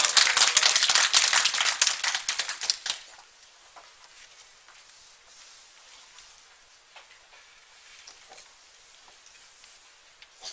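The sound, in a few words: audience applause welcoming students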